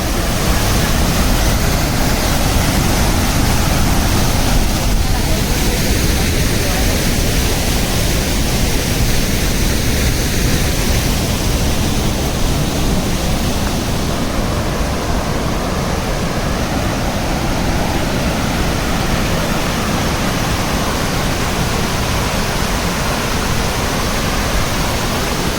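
Urmagada waterfall at Phulbani, a steady, loud, broadband roar of falling water that stays constant throughout with no voices.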